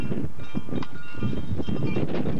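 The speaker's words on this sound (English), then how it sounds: "Woo, it's windy." Strong wind buffeting the microphone outdoors on an old VHS home recording, rough continuous rumbling gusts with rustling, loud and close throughout.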